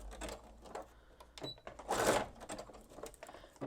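A machine stitches freestanding lace with a rapid, faint mechanical whir and ticking needle pulses, rising briefly in the middle before settling back to a quiet rattle.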